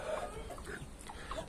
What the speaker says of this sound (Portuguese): Eu soltei o galo aí pra dar uma andada